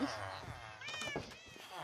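Game cats meow inside a snowy-map house in a video game, a cluster of close, wavering meows around the middle, with faint ambient noise around them.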